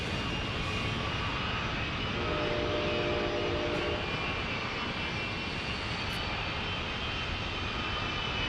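Jet engines on a Gulfstream business jet seen while planespotting in San Diego give a loud, steady roar that fills the whole stretch with little change.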